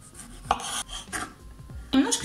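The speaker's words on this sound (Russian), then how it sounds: "Помидоры нарезаем кубиками." A knife taps against a cutting board while cubing tomatoes, a few strokes at an uneven pace, close and fairly quiet, with light kitchen clatter between strokes.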